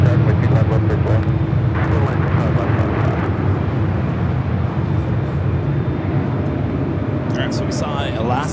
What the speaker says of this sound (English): we saw Alaska and the Star Wars special livery arriving 25 at left